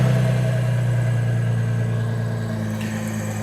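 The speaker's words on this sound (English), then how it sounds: "That is definitely idling better." A 2000 Ford Mustang V6 idles steadily right after a fuel filter replacement, giving a smooth, even low hum that holds close and constant with no voices over it.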